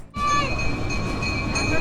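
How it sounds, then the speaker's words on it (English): A passenger train pulls into a station near Zipaquirá, Colombia, a loud continuous rumble of rolling wagons with a sustained high metallic tone, and brief voices faintly underneath. "The train has arrived"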